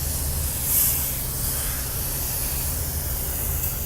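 Truck-Lite multi-purpose maintenance spray hisses steadily from an aerosol can in one sustained, close, even burst, with a faint low hum underneath.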